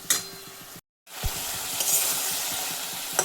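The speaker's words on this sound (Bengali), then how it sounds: "এই শস্য পোস্তের সাথে ভালোভাবে এটাকে কষাতে হবে, যাতে সবজিটা ভালো করে সেদ্ধ হয়ে যায়" Vegetables sizzling and frying with poppy seeds in a pan on a gas flame, a steady close crackle with a brief gap and repeated stirring scrapes and clinks, no talk.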